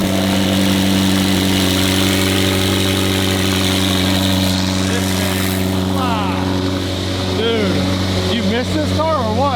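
A McLaren Senna sits idling after a cold start, its exhaust holding a loud, deep, steady drone with a strong hum, while voices talk over the engine near the end.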